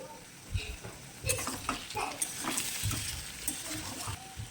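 Cauliflower florets go into a frying pan with carrot and pumpkin already frying for vegetable khichdi, a soft sizzle under scraping stirs and a few clinks of the spatula against the pan, steady at close range with no talk.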